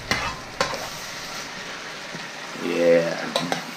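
Cabbage and carrot coleslaw mix for egg roll in a bowl sizzles steadily in a pan while being stirred, with sharp scraping clatters at the start and again near the end.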